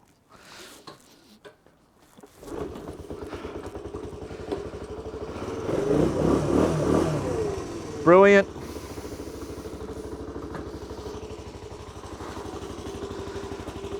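Honda CT110 motorcycle engine kicked over on choke, catching with a rough clattering start and then settling into a steady idle, close by; a brief loud burst near the end, with a short spoken remark over it.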